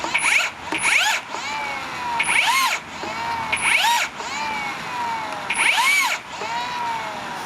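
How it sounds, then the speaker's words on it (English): A Hikoki 36V cordless rebar bender bends steel rebar in repeated short motor bursts, each a rising and falling whine, about six in a row with brief pauses between, loud and close. "Chuck your bit of rebar in. Start your bend."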